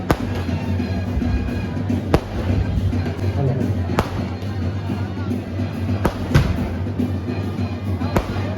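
Fireworks burst repeatedly at a church festival in Kerala, sharp loud cracks spaced every second or two over a dense crackling, rumbling din from the crowd and surroundings.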